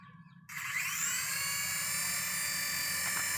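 Small toy remote control helicopter switched on after a quiet start, its rotor spinning up into a steady, high-pitched electric whine that holds loud and constant, with no talk.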